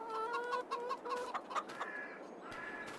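Chickens in Farming Simulator 22 give a run of close, repeated clucks and short squawks in an uneven rhythm, then softer clucking continues over a light ambient hum with no talk.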